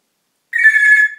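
A parrot mimics a telephone ringing with a single short, clear, shrill electronic-sounding trill, loud and close against silence.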